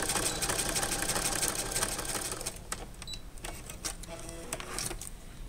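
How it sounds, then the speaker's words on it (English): A sewing machine double-stitching a handle made from Capri Sun juice pouches, a fast steady mechanical whirr that eases into slower, intermittent stitching bursts toward the end. "double stitch it so that it'll hold up good"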